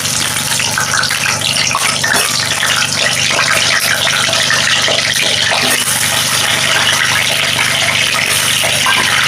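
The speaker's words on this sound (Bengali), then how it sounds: "আলুগুলোকে আমি একটু লাল লাল করে ভেজে নেব।" Potatoes fry in hot oil for an egg curry, giving a loud, dense, continuous sizzle that holds steady from start to finish without pause.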